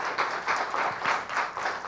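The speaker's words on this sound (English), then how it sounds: "let's give Abby a round of applause, everybody" Audience at a talk on maintaining historic buildings applauding a guest, a short steady patter of many hands clapping in loose pulses, close and moderately loud.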